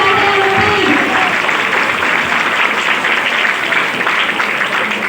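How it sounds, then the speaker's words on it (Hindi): Loud, steady applause from a crowd at a patriotic program of Indian desh bhakti songs and speeches, a continuous roar of many hands clapping at even strength throughout. "जोरदार तालियां हो जाए"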